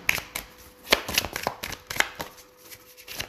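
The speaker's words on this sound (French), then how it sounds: "pour l'oracle miroir, s'il vous plaît, pouvez-vous me donner quelques cartes" Mirror oracle cards shuffled by hand at close range, a quick run of crisp papery flicks and slaps in an uneven rhythm, with no speech.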